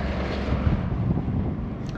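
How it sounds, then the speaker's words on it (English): Strong wind buffets the microphone outside the Tata Steel works in Sheffield in a steady, loud rumbling roar with no voices, gusting continuously throughout. "it's windy as hell"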